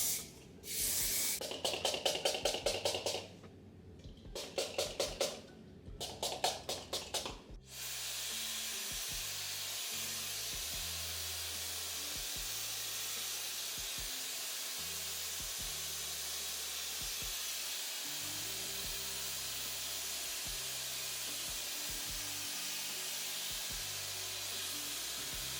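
Two short bursts of aerosol spray onto hair rollers hiss up close, separated by a brief pause, followed by a long stretch of quiet background noise.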